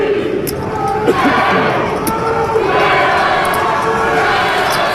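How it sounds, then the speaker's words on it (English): A small group of fans at a 2009 World Series of Poker Main Event final table cheers together, a steady crowd roar and chanting holding level throughout, with commentators talking over it. "A new cheer from the group."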